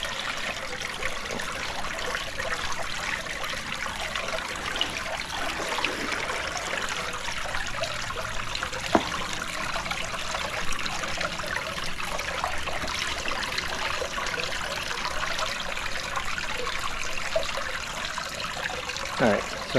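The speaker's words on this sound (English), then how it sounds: "I have a main waterfall here, and then I have two oxygen bubbles over here" A fish pond's main waterfall and two oxygen bubblers give a steady, unbroken wash of splashing and bubbling water that stays even and fairly close from start to finish.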